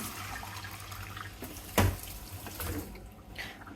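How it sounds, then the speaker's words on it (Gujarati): Water poured into tempered khichdi with vegetables, heard as a running splashing pour with one louder gush midway, close by and fading off, no talk over it. "પાણી એડ કરી"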